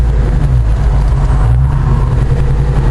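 A Jeep Wrangler Rubicon JK swapped with a 6.2 LS L92 V8 and 6L80 transmission, running a MagnaFlow 50 series muffler and 4.10 gears, hums and grunts steadily from inside the cab with the windows down, a loud, low engine drone.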